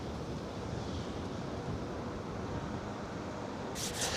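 Surf rolls in continuously at Rehoboth Beach, Delaware, a steady broadband wash of waves with some wind buffeting the microphone, louder gusts near the end.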